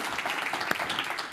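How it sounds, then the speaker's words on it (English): Brief burst of audience applause at a startup talk held at Google, dense clapping at steady moderate level throughout, with no talk over it. "Big round of applause to Matt."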